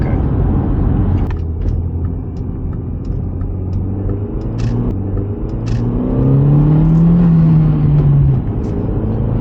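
A big-turbo Audi B5 car accelerates hard from inside the cabin, a loud steady rumble and engine drone that swells and climbs in pitch partway through, with faint clicks and no talk.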